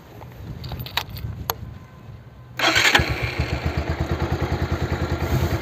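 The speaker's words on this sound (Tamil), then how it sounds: "பைக்கை ஸ்டார்ட் பண்ணி ஒரு 10-15 minutes வந்து ஐடலிங்கில் விடணும்." A motorcycle engine starts after a few faint clicks, then settles into a steady, loud idle with a regular pulsing thump.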